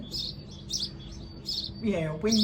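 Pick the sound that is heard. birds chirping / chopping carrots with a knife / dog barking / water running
birds chirping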